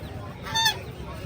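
A single short, nasal honk from a duck rises out of steady background noise at Pallavaram market, near and moderately loud.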